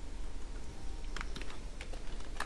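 Computer keyboard typing while writing class code for a computer science lesson, faint scattered key taps over a steady room hiss.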